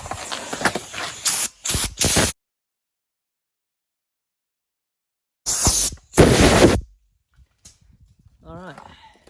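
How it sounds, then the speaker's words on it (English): An air hose blows on a red oak bowl in two loud bursts of hissing compressed air, each lasting about a second, separated by a long silence, with faint handling sounds at the end. "Let me hook up my air hose"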